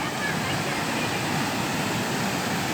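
The Sherpe-Napne waterfall at Vaibhavwadi, Sindhudurg, pours over natural stone in a steady, unbroken rushing roar that fills the whole moment evenly.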